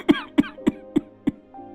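Five hoarse, evenly spaced coughs from an old man in an animated Hindi cartoon, close and loud, each a sharp burst followed by a brief gap.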